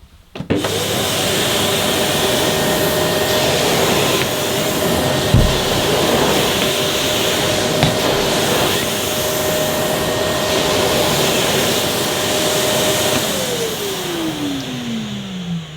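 Sebo Airbelt D2 Komfort ePower vacuum cleaner running on maximum over carpet, a loud, steady roaring whoosh held throughout with faint bumps as it is pushed.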